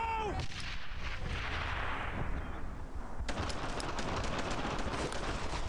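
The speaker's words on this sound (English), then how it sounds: "I'm throwing a grenade!" Heavy gunfire and booming blasts fill a World War II shooter, Brothers in Arms: Earned in Blood, with a continuous loud barrage that sharpens into denser cracks partway through.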